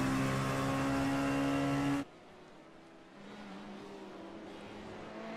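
A Corvette race car at Silverstone roars past close by with a loud, steady engine tone that suddenly drops away, leaving a quieter distant engine hum from the track.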